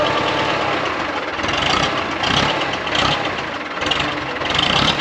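A 1960 International 460 tractor engine runs with the PTO engaged, a loud, close, rough idle with a steady knocking chug and slight surging, without voices.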